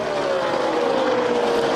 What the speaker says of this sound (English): after that contact, you can hear the engine change tune